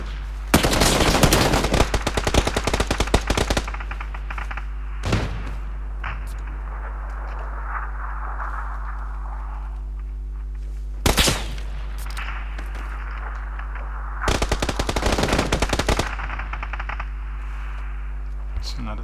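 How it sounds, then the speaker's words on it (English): Bursts of automatic gunfire in PUBG crack out in rapid volleys, a long burst at the start and shorter sharp bursts later, loud against a steady low hum with quiet gaps between. "Somebody firing at me, I can't see the position."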